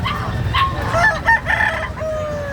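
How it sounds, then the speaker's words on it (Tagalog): A rooster crows loudly and close by, its call rising and breaking, with faint outdoor background noise. "May tandang pa doon."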